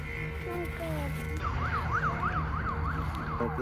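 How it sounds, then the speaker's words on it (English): A wailing siren rises and falls steadily in the distance, over a continuous background hum and murmur. "We can hear sirens even now."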